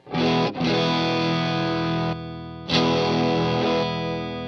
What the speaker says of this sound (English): You hit the OD808.